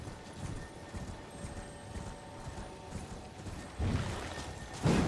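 Horse hooves clip-clopping in the video game Elden Ring, a steady galloping rhythm at moderate level that grows louder and denser toward the end.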